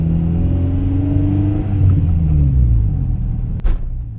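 Honda Integra Type R engine pulling while driving, a loud steady rumbling drone with rising and falling harmonics as it revs through the gears, heard from inside the car.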